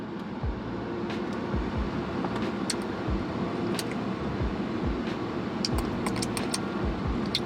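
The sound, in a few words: car driving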